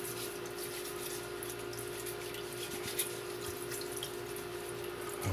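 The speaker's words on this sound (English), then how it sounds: "one more potato to wash here" Tap water runs in a steady, close hiss and splatter into a sink while a potato is rinsed beneath it, continuous throughout with faint drips and no speech.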